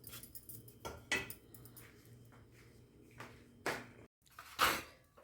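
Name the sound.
spoon mixing sugar mixture in a bowl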